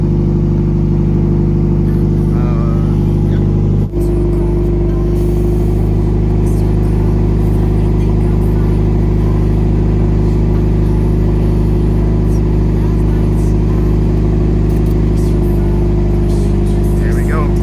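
Steady mechanical hum from a Subaru BRZ with air suspension airing up from a fully lowered stance, a continuous compressor drone running loud and unbroken throughout, with a single brief clunk early on.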